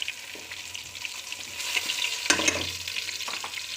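Whole spices such as green and black cardamom, cloves and black peppercorns stirred and frying in hot oil in a pan for mutton korma, a steady sizzle with scraping stirs and a louder crackle burst midway.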